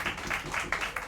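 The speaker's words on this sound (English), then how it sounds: "how about another round of applause for this incredible trio" An audience at a live jazz show in a small room claps for a jazz trio of drums, bass and keys. The applause is steady and fairly faint, with rhythmic claps through the whole clip.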